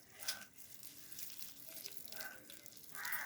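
Water poured over palm fruit seeds to wash them, while making traditional palm fruit roti: faint, uneven splashing in short bursts against a quiet background.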